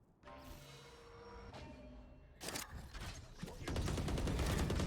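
Gunfire sprayed through walls in the video game Valorant on the map Fracture erupts after a quieter stretch of in-game ambience, with bursts of rapid shots that build into sustained loud automatic fire by the end.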